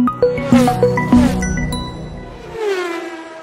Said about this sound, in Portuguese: Roda a vinheta.